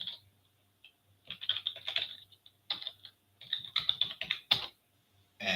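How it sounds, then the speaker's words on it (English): Fingers type on a computer keyboard in quick bursts of close, crisp key clicks separated by short pauses, with no talking. "I'll type in my website."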